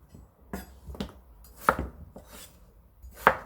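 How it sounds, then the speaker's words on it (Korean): Young radish greens being chopped into small pieces with a knife on a board, a few sharp separate chops with two louder strikes standing out, close and alone without talk. "작게 썰어줍니다"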